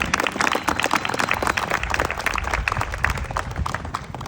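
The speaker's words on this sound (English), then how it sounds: "So they deserve a round of applause." An audience at a ribbon cutting for a family recreation center gives a round of applause, a moderate-level burst of many hands clapping that carries on steadily for several seconds.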